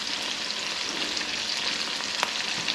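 Chicken frying in a pan, giving a steady, close, even sizzle with faint crackles throughout and a small pop near the end, with no talking.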